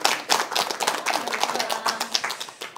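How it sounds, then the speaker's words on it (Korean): A small audience at a lecture claps, individual hand claps audible as a loose, uneven patter that stays fairly close and steady. "예, 이럴 땐 박수 한번 치셔도 좋습니다."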